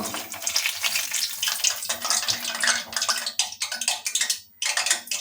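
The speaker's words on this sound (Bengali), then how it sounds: "কাঁচকলার কোপ্তাগুলো সুন্দর গরম তেলে আমাদের লাল লাল করে ভাজা হয়ে গেছে" Raw banana koftas fry in hot oil in a pan, a close hissing sizzle that rises and falls in uneven bursts as the pieces are moved and lifted, with no talking.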